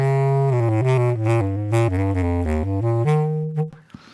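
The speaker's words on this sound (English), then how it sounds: "Everything you will hear now is the pickup without anything." A bass clarinet through a pickup with no impulse response or EQ plays a sequence of sustained low, reedy bass notes close and dry, ending on a held higher note before fading out.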